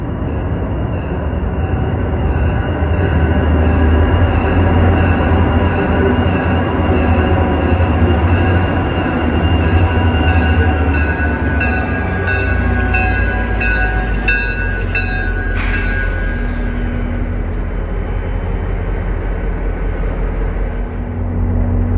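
A passenger train pulled by a classic EMD locomotive rolls past close by at Secaucus, New Jersey, with heavy rumbling and clattering wheels, high metallic squeals rising over the noise, then a brief sharp burst near the end.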